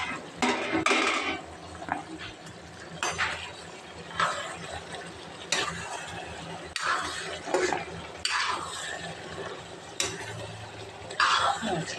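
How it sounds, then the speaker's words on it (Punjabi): Dishes, pots and pans being washed in a home kitchen: bursts of clinking and clattering metal and crockery come at irregular intervals over a low background, with some splashing. "ਥੋੜੇ ਜਿਹੇ ਭਾਂਡੇ ਸੀ ਆਪਾਂ ਉਹ ਵੀ ਸਾਫ਼ ਕਰਦੇ ਸਾਰੇ"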